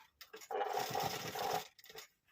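A sewing machine stitching piping onto a blouse, one short close burst of whirring stitching lasting about a second, with soft handling noises before and after.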